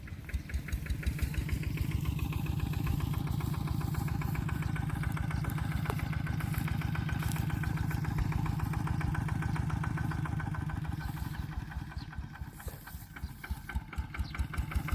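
A motorcycle engine runs steadily at idle for the whole stretch, a dense low rhythmic rumble that stays close and fairly loud with no voices over it.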